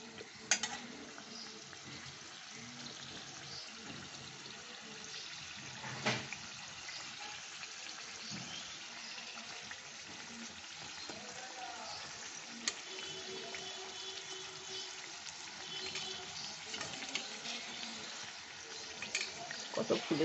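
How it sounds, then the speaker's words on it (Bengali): Tandoori kabab samosas deep frying in white oil produce a soft, steady bubbling sizzle with occasional small pops, faint and continuous, while a person talks at times over it. "এইরকম গোল্ডেন করে ভেজে নেব"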